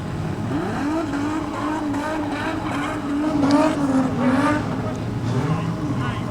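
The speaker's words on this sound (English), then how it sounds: "I don't think he's finished with the burnout somehow." A street stock race car revs hard through a burnout at a raceway national title A-main, the engine note climbing and falling in long sweeps under excited commentary, with a steady roar beneath.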